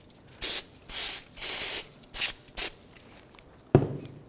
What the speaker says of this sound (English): Just going to use some brake cleaning spray here.